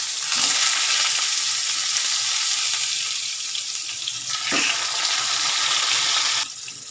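Green chili, curry leaves and asafoetida temper in hot oil, producing a loud, dense, continuous sizzle with a couple of brief clinks, before the sound drops away sharply at the very end.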